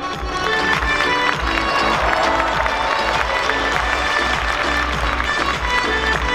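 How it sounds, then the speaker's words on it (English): A crowd at a cosplay contest applauds and cheers for a contestant, dense and loud clapping holding steady throughout without a break. "A huge round of applause for Leon!"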